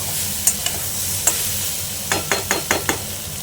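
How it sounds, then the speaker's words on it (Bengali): Prawns stirred into bitter gourd frying in a pan over lowered heat, a continuous sizzle with a run of five quick, evenly spaced spatula scrapes toward the end. "এবার চিংড়ি মাছগুলো মিশিয়ে দিলাম। এবার কম আঁচ করে দিলাম"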